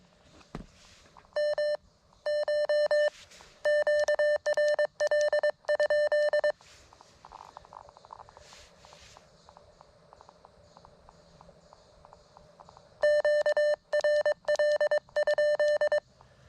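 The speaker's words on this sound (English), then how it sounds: "Hopefully you can hear that side tone." A steady Morse code side tone from an Elecraft KX1 CW transmitter keys out bursts of dits and dahs in clear groups, pausing in the middle, then resuming; fairly loud and close, no talking.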